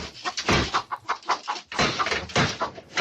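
Agitated chickens clucking and squawking close by in rapid bursts as a bear sow with two cubs goes after them, loud and irregular, with a few knocking thumps mixed in.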